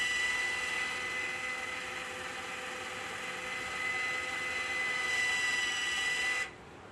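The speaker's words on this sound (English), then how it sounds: "And you can hear the valve go into the backwash" A water filter control valve cycles into backwash, giving a steady hissing, whistling rush of water with a high tonal whine, moderately loud and continuous, then cutting off sharply near the end.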